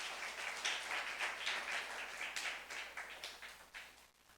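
Church congregation at a youth service clapping together, a steady dense patter of many hands that swells and fades slightly, fairly distant and alone without speech.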